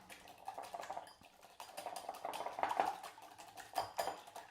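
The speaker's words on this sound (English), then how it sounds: "I'll take my whisk and I just want to start to beat those," A whisk beats eggs in a bowl for bread pudding, a rapid run of light metallic clicks and taps against the bowl's sides, close and fairly steady with a few louder bursts.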